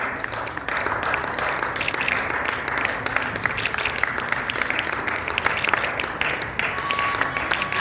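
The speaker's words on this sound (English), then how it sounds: "I'm expecting a big round of applause actually from all of you." Audience applause for the chief guest at a West Bengal direct selling association press meet: steady, dense clapping from a sizable crowd that holds at an even level for the whole stretch.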